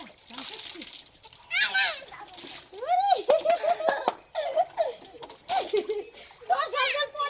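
Water splashes and sloshes in bursts as twin young children bathe, pouring from a mug, mixed with close children's giggles and someone talking throughout.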